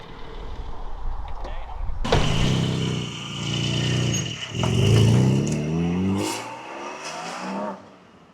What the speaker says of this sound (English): Driving the Porsche Cayman 718 GT4.